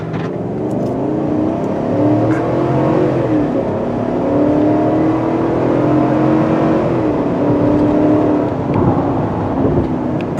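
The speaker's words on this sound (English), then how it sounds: "Let's see how it works with this small V8 in a 0 to 60 time" A 2021 GMC Yukon AT4 with a V8, in sport mode, accelerates hard from 0 to 60; the steady engine roar climbs in pitch through several gear shifts and stays loud and close for the whole stretch, with no talking.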